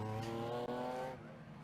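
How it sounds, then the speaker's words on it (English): Swinging 60s Group 2 race cars pass through the corkscrew at Anglesey Coastal circuit, a loud harmonic engine roar holding steady then fading as the cars move away. "Down through the corkscrew come some of the cars in the middle order"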